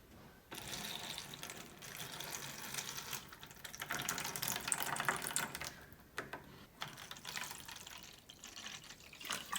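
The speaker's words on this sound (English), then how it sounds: "Pour your water in." Water is poured into the bottom tray of a microgreens setup, giving a steady splashing, trickling pour with some plastic rattles and knocks, fairly close and continuous throughout, without talk.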